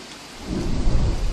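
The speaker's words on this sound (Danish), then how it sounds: "Nu regner det." Rain and thunder in the video game Don't Starve: a steady rain hiss swells into a deep rolling rumble of thunder partway through, loud and close, with no talking.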